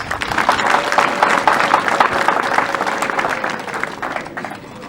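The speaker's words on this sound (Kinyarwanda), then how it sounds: "mbasabe mwese muha amashyi tumushimire rwose" A crowd at a Rwandan Umuganura harvest celebration for a priest claps steadily and warmly, fairly close, then gradually fades.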